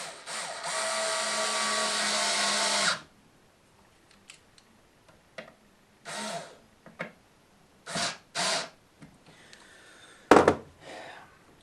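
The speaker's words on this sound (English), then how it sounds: "get a load of little screws and then go ahead and add the screws" A power driver drives small screws into a Grim Reaper diorama base: one long steady burst of whirring, then several short separate bursts spaced apart, close and fairly loud.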